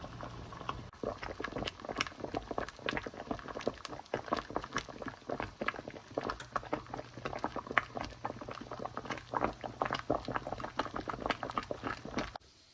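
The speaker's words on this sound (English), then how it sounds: "I'm using the double boil method again to melt some wax to use in my new egg carton fire starters." Water boils steadily in a double boiler set up to melt wax, a dense, continuous bubbling and popping that stays close and fairly loud throughout, with no voices.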